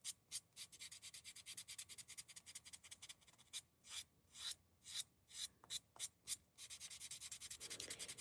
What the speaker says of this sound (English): And I just lightly buff with this.